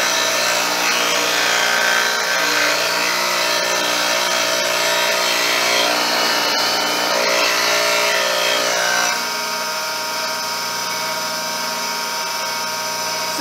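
A bench grinder sharpens woodturning gouges, a loud, continuous high-pitched whine with grinding rasp as steel meets the wheel, steady for most of the stretch and easing slightly toward the end.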